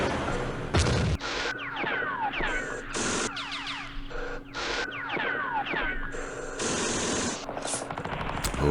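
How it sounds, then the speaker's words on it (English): Machine gun fire crackles in the WWII wargame Campaign Series West Front, during fighting at the Aachen West Wall. Repeated bursts of rattling automatic fire are broken by short gaps, mixed with sweeping whistles and static-like noise. "Freaking machine guns."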